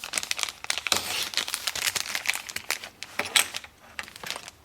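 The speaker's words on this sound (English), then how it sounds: "So I'm going to cut this out of its package." A DCC decoder is cut out of its plastic blister package, producing close, irregular crinkling, snipping and crackling of packaging with no talking.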